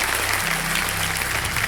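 A studio audience on a quiz-show set claps steadily for visiting celebrity chefs, a brief, fairly soft burst of applause with a faint low hum underneath.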